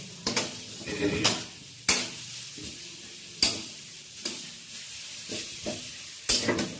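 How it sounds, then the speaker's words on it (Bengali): A spoon stirring a thickening, sticky flour-based mixture in a pan on the stove, with repeated sharp scrapes and knocks against the metal over a soft sizzle. "যতক্ষণ আঠা আঠা না হয় জিনিসটা, ততক্ষণ নাড়তে হবে।"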